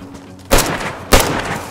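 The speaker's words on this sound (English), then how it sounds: "Yo, who's shooting? I'm shooting. We're shooting zombies." Two loud gunshots from DayZ, a survival video game, crack about half a second apart, each followed by a short rumbling tail, with no talk over them.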